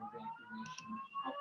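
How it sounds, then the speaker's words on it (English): A building fire alarm sounds at a department during an online meeting, a faint, steady electronic tone with a pulsing edge, heard distantly and briefly. "We are having a fire alarm go off at the department here"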